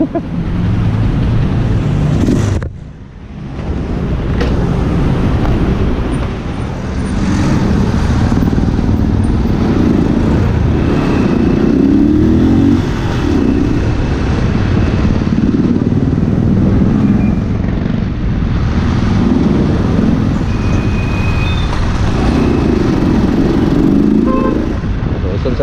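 Steady roadway traffic with motorcycle and car engines droning close by, a continuous loud rumble that swells and fades as vehicles pass, with no talking.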